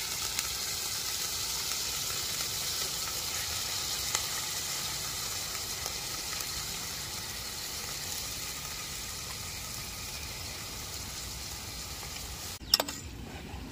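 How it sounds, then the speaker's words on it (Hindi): Mutton chops with onion sizzling in hot oil in a pan, a steady bright hiss that stays even throughout, with a sharp clatter near the end. "दोस्तों तेल गरम हो गया है, अभी हम कांदा डालेंगे अंदर। ये मटन के चाप डालेंगे"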